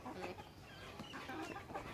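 Soft, faint clucking of a small backyard flock of hens with chicks and a rooster nearby, a low continuous murmur of hens with no talking.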